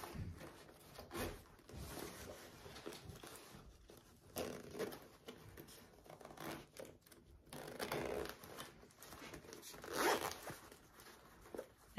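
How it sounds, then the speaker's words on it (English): A zipper on a sewn fold-and-zip petite backpack is pulled open all the way in a series of close, scratchy rasping runs with short pauses between them. "I am going to unzip this all the way"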